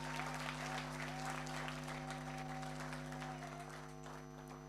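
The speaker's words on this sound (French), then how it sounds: "Applaudissez pour ces jeunes, s'il vous plaît." An audience at a corporate presentation claps steadily for a young company team, with the applause fairly distant and soft over a constant electrical hum, tapering slightly toward the end.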